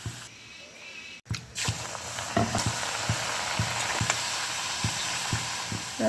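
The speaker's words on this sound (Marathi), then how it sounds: "आता एक एक करून मस्तपैकी आपल्याला तेलामध्ये सोडायचं आहे." Pieces of wheat flour kapnya are dropped one by one into hot oil and fry with a steady, close crackling sizzle, broken by a few soft splashes and clicks as each piece goes in.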